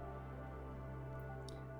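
A brief chime-like goodie notification from the colony game Oxygen Not Included rings out faintly over a steady low game hum, with short high sparkles near the end.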